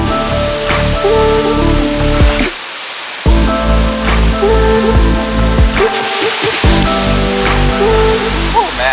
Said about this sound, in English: It's like gallons of gushing water pretty much all the time